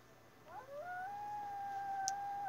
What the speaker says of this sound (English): So when I press this howl button, do I call my pack?